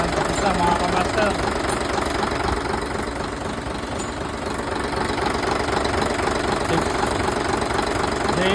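A Hino J08E truck diesel engine, converted from common-rail injection to a mechanical injection pump, idles steadily and loudly with a dense knocking rumble throughout, unchanged from start to finish.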